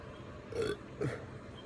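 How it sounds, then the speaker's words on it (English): A man gives two short, close burps about half a second apart after drinking a lot of carbonated Mountain Dew, over a faint room hiss. "There's a burp."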